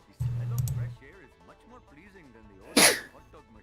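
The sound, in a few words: sneeze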